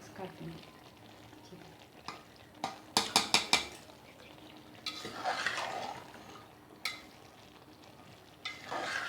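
Keema and green beans being stirred and mixed in a pan, with a spoon scraping and clattering against the metal in a few sharp knocks over a soft, steady sizzle of frying.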